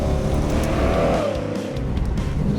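A modified 1992 Camaro autocross car accelerating hard on a course, its engine roaring loud and close in a steady sustained pull with a slight pitch rise and dip, no voices over it.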